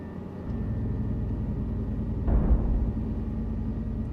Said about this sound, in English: can hear a plane flying over my head.